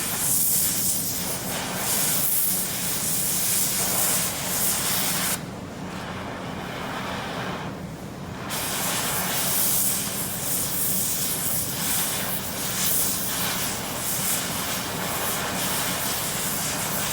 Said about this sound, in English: I'm going to push the paddle and I should be able to cut right through it